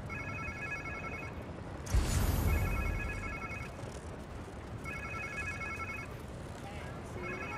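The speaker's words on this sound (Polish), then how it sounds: "To chyba czyjaś komórka." A cell phone ringtone in the video game Marvel's Spider-Man 2 chirps in repeated bursts of electronic trills, pausing between rings, over steady background ambience inside a museum and a brief rushing noise.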